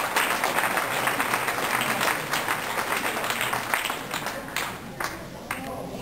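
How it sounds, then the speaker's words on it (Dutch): Crowd applause at the prize-giving for the 6- and 24-hour race in Steenbergen, 2008, with individual claps audible in the mix, strongest at first and gradually thinning out. "Om Umboldijk om daar plaats te nemen op het podium en verdiend applaus te ontvangen."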